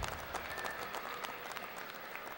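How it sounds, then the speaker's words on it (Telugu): An audience at a Ugadi community program claps for the quiz participants and winners, a dense, moderately loud burst of applause lasting a couple of seconds. "Big claps."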